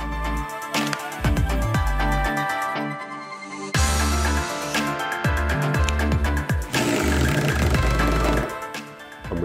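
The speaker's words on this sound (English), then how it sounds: "I can work with a right angle drive" Festool C18 cordless drill fitted with a right angle drive, its motor whirring loudly in repeated runs with a short pause between bursts, close and alone.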